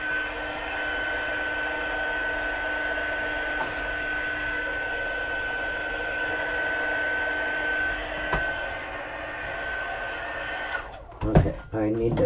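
A heat embossing dryer sets embossing powder on a cloisonné-style craft piece, giving a steady loud whirring blow for most of the time before clattering handling noises near the end.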